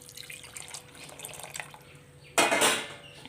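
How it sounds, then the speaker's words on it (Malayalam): Quiet kitchen clatter, then drained water suddenly gushes loudly into a pot of jackfruit seed and mango curry, a steady rushing pour that continues to the end. "ഇനി ഈ ഊറ്റി വെച്ചിരിക്കുന്ന വെള്ളം അതിലേക്ക് ഒഴിച്ചു കൊടുക്കുക"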